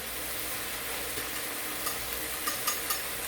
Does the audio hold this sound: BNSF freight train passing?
no